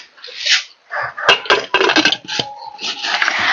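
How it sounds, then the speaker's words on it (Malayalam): A metal lid is set onto a pressure cooker holding a Kerala-style curry with curry leaves: a series of close, sharp metallic clanks and scrapes, like pots and cutlery knocking together, with brief pauses between them. "ഇനി നമുക്ക് മൂടി വയ്ക്കാം കേട്ടോ"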